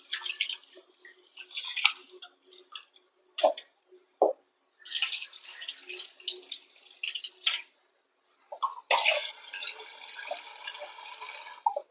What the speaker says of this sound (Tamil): ஒரு 2 ட்ரிப்பு நல்லா அலசிக்கோங்க.